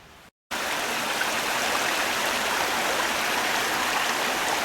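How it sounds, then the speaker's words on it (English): A creek swollen after heavy rain rushes steadily nearby, a dense, even wash of flowing water that starts abruptly after a brief gap and continues without pause. "You hear the sound of that water"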